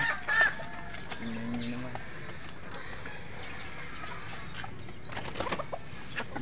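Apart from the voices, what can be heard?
chickens clucking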